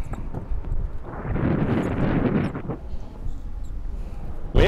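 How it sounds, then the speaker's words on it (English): Wind gusts across an outdoor golf course at Diamond Bar, a steady, close rumble of breeze buffeting the microphone that swells and eases throughout, with a sharper burst at the very end. "Wind, bro. A little wind."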